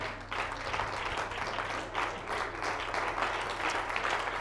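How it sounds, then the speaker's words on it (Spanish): Church congregation at an evangelistic service clapping together in praise, a steady, moderately distant wash of applause with a low hum underneath and no talking. "Dele un fuerte aplauso al Señor Jesucristo."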